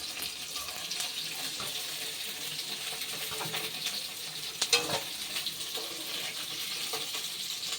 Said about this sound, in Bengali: বাকি যে ভেন্ডিগুলো আছে সেগুলোও এবারে ভেজে নেব একইভাবে।